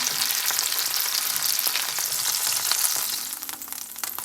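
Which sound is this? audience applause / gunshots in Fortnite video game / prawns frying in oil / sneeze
prawns frying in oil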